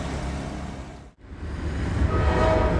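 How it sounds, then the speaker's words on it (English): A sleeper train in Egypt, bound for Aswan, rumbles steadily along with a low rolling drone, briefly dipping quiet before the heavy clatter returns, louder and close. "This is a sleeper train, as you can probably hear"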